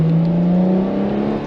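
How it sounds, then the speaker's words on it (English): A Ferrari F12 TDF's naturally aspirated 780-horsepower V12 revs close up, a smooth, loud, rising engine tone that climbs steadily during a brief burst of throttle. "Oh wow, the noise, naturally aspirated V12."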